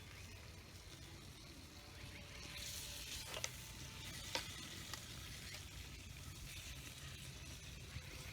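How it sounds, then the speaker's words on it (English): An egg fries in a pan over a campfire outdoors, giving a quiet, steady sizzle with a few faint clicks and pops, low in level throughout with no speech. "I'll just crack that thing in the pan."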